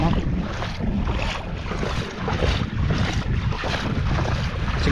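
Strong wind buffets a microphone aboard a small boat at sea, a constant loud roar mixed with water and surf wash, with no clear talking over it.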